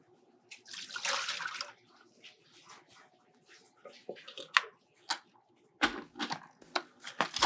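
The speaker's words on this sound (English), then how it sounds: "go on and just dump this dirty water" Dirty water from soaking lettuce poured out of a bowl into a sink, a splashing gush followed by scattered drips, clatters and trickles, with no talk.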